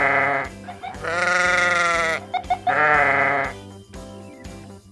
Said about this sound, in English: You're sounding like a baaing sheep.